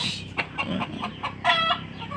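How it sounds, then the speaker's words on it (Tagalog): A chicken being plucked clucks in short bursts, a rhythmic series of squawky calls with a louder rising cluck near the end, fairly close. "Oh, yun na, sinabunutan ang manok."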